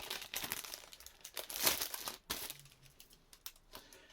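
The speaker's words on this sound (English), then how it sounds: "we'll unwrap this one" Plastic wrapping crinkles and crumples as a film, The Food of the Gods, is unwrapped. The crackling comes up close and quiet, in uneven bursts with a sharper tear near the middle.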